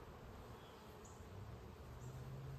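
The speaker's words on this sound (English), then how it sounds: "But I do have several bees in this box right here." Honeybees in a hive box make a faint, continuous low buzz under quiet outdoor ambience.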